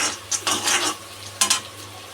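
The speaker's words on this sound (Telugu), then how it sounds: "ఇవి గోల్డెన్ బ్రౌన్ అయ్యేంత వరకు వెయిట్ చేసి ఫ్రై చేసుకుందాం." Onions frying in a pan until golden brown for a simple noodle dish, a steady low sizzle with occasional stirring scrapes and clinks up close, no voices.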